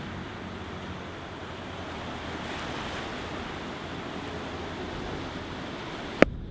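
Floodwater pours over the Goshen Pond spillway on the Elkhart River during flooding, a continuous broad rushing roar heard at a steady, moderate level with wind buffeting the microphone and no voices.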